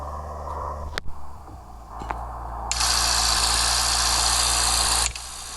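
A Mercedes car engine in a racing video game, driven on a race track: a steady low engine drone with brief clicks, then a loud broadband roar rising midway and holding for a couple of seconds before cutting off.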